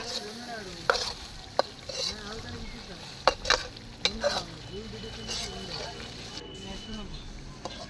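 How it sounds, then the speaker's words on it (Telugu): Village-style chicken curry with fresh coriander being stirred in a pot, with a series of sharp scraping clinks of a spoon against the pan over a steady cooking background while a voice talks. "కొంచెం కొత్తిమీర కూడా వేసేసుకొని ఒక్కసారి మళ్ళీ కలుపుకొని దించేసుకోవడమే"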